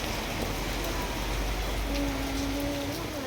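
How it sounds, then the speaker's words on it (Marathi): Heavy monsoon downpour falling steadily while people wait to head home from a hospital visit, a dense continuous rushing hiss that fills the whole stretch with no break, with a faint tonal sound briefly rising in the background. "इतका जोरदार मुसळधार पाऊस चालू होता"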